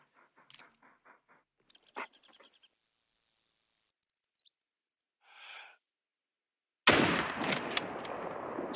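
A rifle shot at a deer in theHunter: Call of the Wild, preceded by quiet game clicks and a breathy hiss, then one sharp loud report near the end with its echo trailing off.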